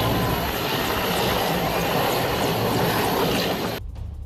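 An Air Force rescue helicopter from the Bengaluru air force station flies during a flood rescue, a loud, steady rotor and engine roar that holds constant and then cuts off abruptly near the end.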